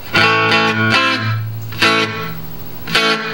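A bass line through a bass amp: a handful of distinct plucked notes with a slightly driven, effected tone, each ringing and decaying before the next, played alone.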